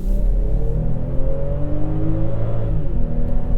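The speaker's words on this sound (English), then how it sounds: "I slam the throttle, go through the kick down pedal, and it drops a bunch of gears right away and powers away smooth and strong" A 2020 BMW X5 accelerates hard on kick-down as the transmission drops several gears. A loud, smooth engine roar holds for the whole few seconds, its pitch climbing steadily as the SUV pulls away.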